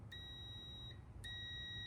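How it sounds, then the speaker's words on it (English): A multimeter's continuity buzzer sounds while testing the brake switch on a Honda Z50 K2 motorcycle: two steady high-pitched electronic tones, one long and one starting near the end, fairly quiet over low background hum. "should have a little buzzer"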